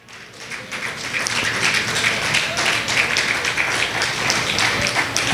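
Church congregation applauding during a sermon, a dense steady wash of many hands clapping that swells after a brief quiet start and holds loud throughout.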